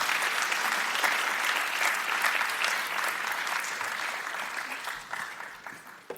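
An audience at a community centre's 20th anniversary celebration claps in sustained, dense applause that holds steady, then thins and fades out toward the end.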